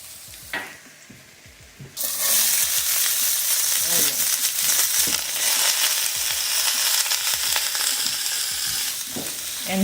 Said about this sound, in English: we're going to saute cabbage with ginger, a little bit of ginger, and garlic